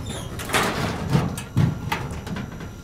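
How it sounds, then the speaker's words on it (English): A door opening in the Backrooms video game, a few soft thuds and creaks spread across a short stretch, fairly quiet, with no talking over it. "I can open that door now."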